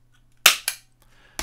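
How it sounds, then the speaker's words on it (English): A stapler in a small studio is clicked as an audio marker: three sharp, loud snaps close to the microphone, the first two in quick succession and the third after a short silence. "so I'm using a stapler today, which is not a good idea, but it would make a sound like this"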